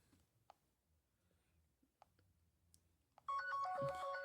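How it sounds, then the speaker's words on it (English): A default Android ringtone plays from a Kyocera Hydro Wave C6740N phone, starting abruptly after a few faint clicks and continuing as a loud, bright melodic tone. "these are all just default Android ringtones"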